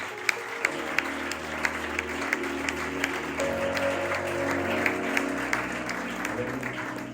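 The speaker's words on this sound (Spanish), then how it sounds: "Dale un fuerte aplauso al Señor." A church congregation bursts into sustained, even clapping that fills the room, with a low tonal backdrop running underneath the applause.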